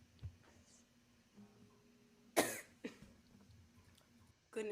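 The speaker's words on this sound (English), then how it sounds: "just coughing" A single sharp cough cuts through a quiet room at a live concert, with a couple of smaller throat sounds and faint clicks around it.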